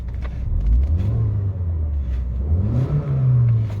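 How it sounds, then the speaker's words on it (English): A 2010 VW Beetle Solar Convertible engine revs twice close by, a smooth low drone that climbs and falls, then rises again into a longer sustained rev. "So I'll just give it a quick rev for you."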